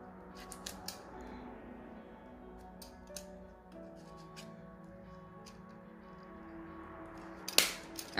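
Scissors cutting a page of a small pocket planner, faint scattered snips and ticks across a quiet room, ending with a louder sharp clip.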